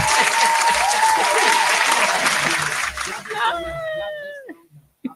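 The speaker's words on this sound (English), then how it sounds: "I got to clap for you again." A small group applauds close by for a musician, steady clapping that thins out toward the end, with a voice speaking over the claps.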